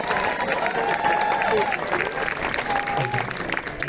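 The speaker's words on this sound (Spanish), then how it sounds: "Los recibimos con fuertes aplausos." An audience applauding at an event on Franciscan music and pedagogy, a dense, sustained clapping close by with some crowd murmur and brief voices mixed in.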